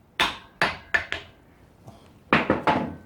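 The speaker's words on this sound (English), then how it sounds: "you now clamp the yoke in there and give the whole thing a tap" A hammer taps a universal joint yoke clamped in a vise: four sharp metallic knocks, a faint light tap, then three more quick strikes, close and distinct.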